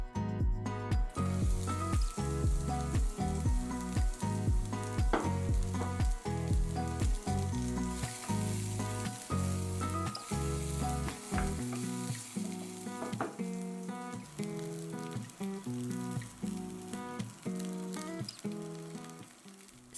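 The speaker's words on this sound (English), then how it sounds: "I've put in my onions and just fried them up for about a minute" Onions fry in a hot pan over medium-high heat for tofu fried rice, a constant bright sizzle running beneath prominent rhythmic tonal sounds for the full stretch.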